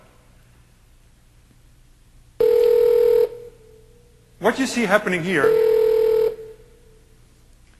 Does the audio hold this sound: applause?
no